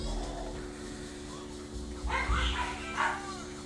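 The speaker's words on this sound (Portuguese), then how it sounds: "porque tá um barulho da desgraça na casa, cachorro latindo" A dog barks indoors in a house, a few sharp yips and barks arriving in short bursts toward the end over a steady electronic hum.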